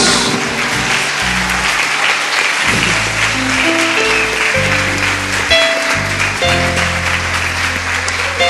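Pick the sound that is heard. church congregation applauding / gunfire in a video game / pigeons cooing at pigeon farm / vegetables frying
church congregation applauding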